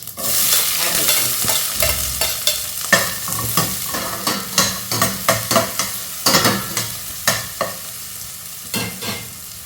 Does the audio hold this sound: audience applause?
no